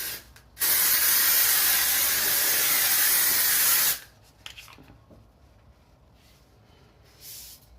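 Volumizing dry shampoo sprayed from an aerosol can in one steady, loud, close hiss lasting about three seconds, followed by faint rustling and handling noises.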